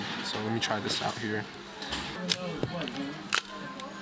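A Nikon Nikkormat EL 35mm film camera firing its shutter, a few sharp, close mechanical clicks spaced across the clip, with someone speaking in between.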